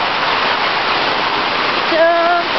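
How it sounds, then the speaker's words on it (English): Mini waterfalls formed by flooding rain in Macau pour with a dense, steady roar of rushing water, close and loud, while a brief tonal voice-like sound rises near the end. "Oh my gosh. Mini waterfalls."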